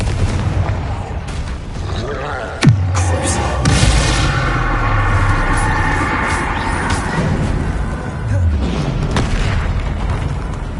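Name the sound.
Confringo and Bombarda explosion spells in video game Hogwarts Legacy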